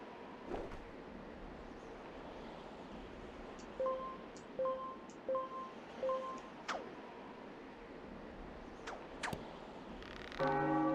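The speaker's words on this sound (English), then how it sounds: "we can now ring the bell" A bell rung in the Gamecube game The Legend of Zelda: The Wind Waker, a series of clear tolling chimes spaced about a second apart over a soft game ambience, followed by a brighter chiming flourish at the end.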